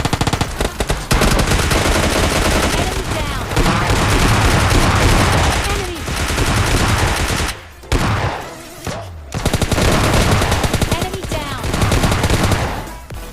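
Loud, sustained automatic gunfire in the video game PUBG Mobile Lite, long rapid bursts with a couple of short pauses before the shooting resumes.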